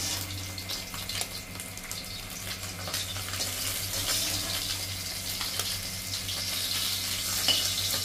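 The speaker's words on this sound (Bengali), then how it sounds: "কই মাছটা আমি খুব একটা বেশি ভাজবো না, এরকম অল্প করেই ভাজবো" Koi fish frying in a pan of hot oil, giving a steady, close, dense sizzle that holds at an even level throughout with no voices.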